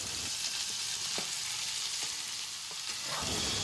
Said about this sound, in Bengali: পেঁয়াজটাও একটুখানি নেড়ে চেড়ে